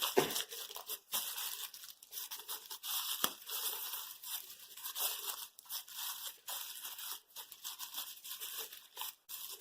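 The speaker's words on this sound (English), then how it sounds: "Pull off all this plastic protection." Protective plastic film is peeled off an LED Bluetooth desk lamp, making close, faint, continuous crinkling and tearing rustles with small crackles and a few louder snaps, with no talking.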